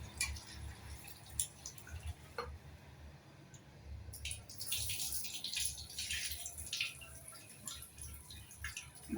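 Water sloshes and splashes in a bowl as flattened rice is swished and rinsed, with irregular wet drips and rustles, close by.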